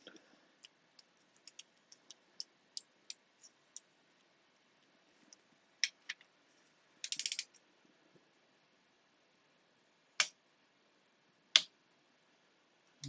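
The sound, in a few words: tightening a bolt on a 1961 Greeves Scottish motorcycle gearbox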